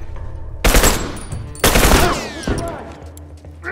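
In The Last of Us, a turret machine gun fires two loud sustained bursts of rapid automatic gunfire, followed by a shorter burst and echoing tails, as shouted voices mix in.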